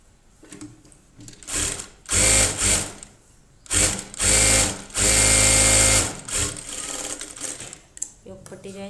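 A sewing machine joins a fabric strip onto a blouse, whirring loudly and close in several stop-start bursts, the longest lasting about a second.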